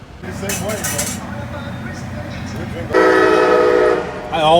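A train rumbles past in Seffner, Florida, with a loud horn blast partway through, while people talk over the noise nearby.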